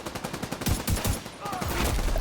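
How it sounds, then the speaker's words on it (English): Gunfire in The Division 2 as a player shoots down at an enemy from high ground, with rapid bursts of close, loud shots mixed with game sounds. "I'm going to shoot down at him."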